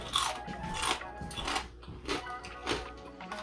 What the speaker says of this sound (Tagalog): Crunchy, crackling, super crispy pork belly.